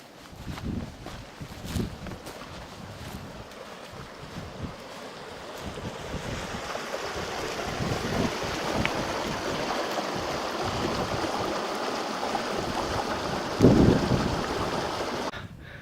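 Baker Creek in the Sierra Nevada rushes steadily as a broad, continuous wash of flowing water, with breezy wind gusts buffeting the microphone and a brief louder surge near the end.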